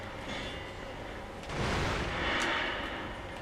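Firecrackers go off in the video game Sekiro: a burst of crackling blasts swells after a steady rumble, loud and close, then fades back into a low roar.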